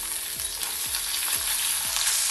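Chopped star fruit pieces fry in a pan with a steady, bright sizzling hiss and a few soft rhythmic low thumps beneath, close and without voices.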